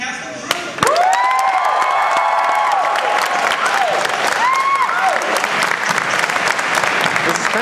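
Loud audience applause with cheers and whoops fills a convention panel hall, erupting suddenly and holding steady, with voices and cheering rising above the dense clapping.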